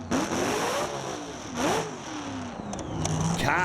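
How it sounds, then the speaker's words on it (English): A Top Alcohol drag racing car in the semi-finals at Calder Park revs in sharp bursts then launches, its engine rising and falling in several loud surges with crackling high-end noise, heard from trackside. "Car sounded like it got right up on the tyres there"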